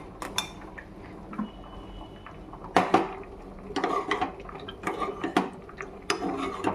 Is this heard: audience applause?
no